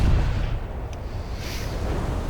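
Naval guns fire in a War Thunder sea battle, a heavy cruiser in the fight; a loud low boom opens, then a sustained rumbling roar with a faint rushing swell midway.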